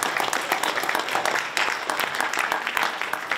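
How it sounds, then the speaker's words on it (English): Audience applause for New York maltsters at a state brewing ingredients event, a steady dense wash of many hands clapping at moderate volume for several seconds with no speech over it. "Give the maltsters a clap."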